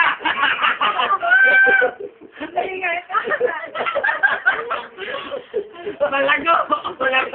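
Chickens cluck and squawk close by in a busy, continuous run of calls, with people talking and shouting over them.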